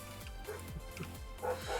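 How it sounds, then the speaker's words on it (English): A neighbor's dog barks in quick repeated yaps, faint and distant, under low background sound. "My neighbor's dog barked after I said that."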